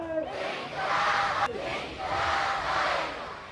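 A huge outdoor political rally crowd of over 80,000 people in Rawalakot roars in a sustained, dense wall of cheering and chanting, swelling again after a brief sharp crack midway.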